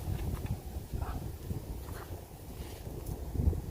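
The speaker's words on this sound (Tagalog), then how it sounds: "Ang ganda ng hangin, malakas yung hangin yan" Strong outdoor wind buffets the microphone on a sunny day of kite flying, a steady low rumbling roar with gusty swells that runs throughout and grows louder near the end.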